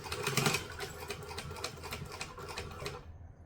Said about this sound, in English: So I'm going to stitch it main side up. We're going to stitch and back stitch.